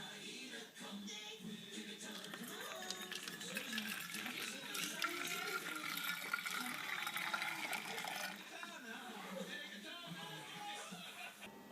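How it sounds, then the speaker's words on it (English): Freshly boiled wort for a yeast starter is poured into a vessel, giving a steady, continuous liquid rush and splash that lasts throughout. It sounds fairly faint and close. "now my wort has boiled, and we're just going to try to pour it all in"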